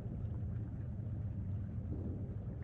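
A boss's Storm Howl attack in Tales of Berseria rolls out as a steady, loud low roar, a dense rumbling wind-like drone that holds evenly for under three seconds with no voices.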